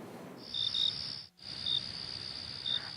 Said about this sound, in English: As I write this project, crickets chirp outside.